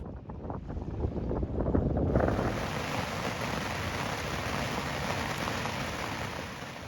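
Steady rain patters on a moored sailboat, a dense, constant hiss with a heavier gust of wind and water around the second mark, then an even wash of rainfall close to the microphone.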